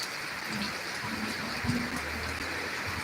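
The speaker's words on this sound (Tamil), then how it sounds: "நல்ல ஒரு கனமான மழை காற்று அடித்து காற்று நின்றவுடன் மழை தொடங்கியது" Heavy rain pours steadily after a gust of wind, a constant dense hiss of water falling on surfaces, loud and unbroken throughout with no clear speech.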